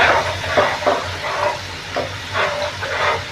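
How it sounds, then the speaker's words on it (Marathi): Garlic sautéing in a pan for a homemade Schezwan chutney, a soft steady sizzle broken by several scraping stirs of the spatula, close and fairly loud with no talking. "लसूण अगदी दोन मिनटं असं परतून घेऊ"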